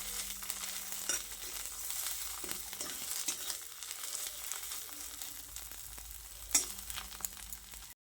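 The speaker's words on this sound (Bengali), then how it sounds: "সব কিছুকে আবারও ভালো করে নেড়েচেড়ে মিশিয়ে নিচ্ছি" A leafy vorta mash fries in a wok with a soft, steady sizzle, while a spatula scrapes and stirs at intervals and gives one sharper knock, heard close up with no talking.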